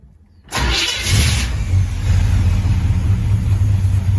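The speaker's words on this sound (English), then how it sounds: "Let's give it a few pumps in the old gas pedal. Fire up." A 1967 Pontiac Firebird barn find cranks and fires up after 25 years, its engine catching abruptly then settling into a loud, rough, steady idle with a deep rumble, close by and without talk.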